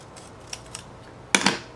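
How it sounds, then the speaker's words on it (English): Scissors cut a decorative sticker in half: a few light snips, then a louder, sharper double cut near the end, close and clear over a quiet room. "I think I'm gonna take this one, cut it in half,"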